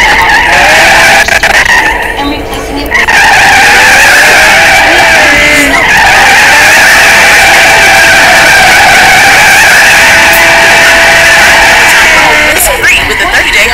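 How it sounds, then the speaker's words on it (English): A Ferrari 458 Italia in a racing video game drifts with a loud, sustained tire squeal of layered high screeching tones that holds for most of the stretch, with engine noise underneath and a brief dip near the start. "look at how well this car drifts"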